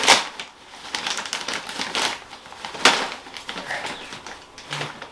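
Plastic bag being cut open by hand, a quick series of crisp snipping and crinkling bursts, close and fairly loud, with no talk over it.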